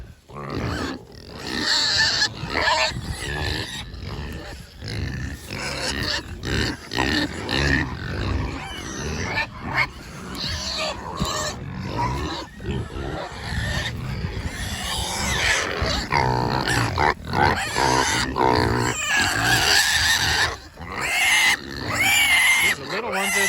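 Pigs in a winter farmyard grunting, squealing and oinking almost continuously, loud and close, with a dense chorus of harsh calls and a person talking now and then among them.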